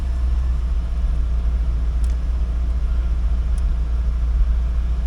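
A 1990 Corvette C4 with the L98 engine running in gear, a steady low engine rumble heard close and even throughout, no talking.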